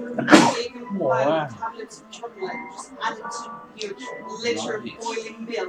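A single loud, abrupt sneeze bursts out near the start, followed by a person talking for the rest of the clip.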